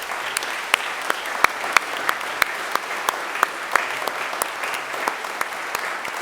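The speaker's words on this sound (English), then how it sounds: "So let's give our rowers a round of applause for all the hard work." An audience at a school headmaster's gathering applauds the rowers, giving dense, sustained clapping from a large crowd with sharp individual claps standing out, steady and moderately loud for the whole stretch.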